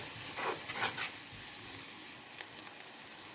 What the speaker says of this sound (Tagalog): igisa lang natin hanggang mag-soft at saka mag-caramelize yung ating onion